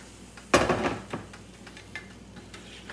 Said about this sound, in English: You just stir it around.